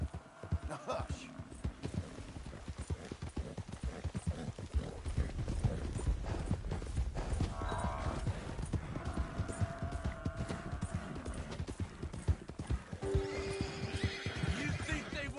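Horse hooves clip-clopping steadily in Red Dead Redemption 2, a continuous near trotting rhythm with an occasional whinny, under game music, creaking tack and characters talking.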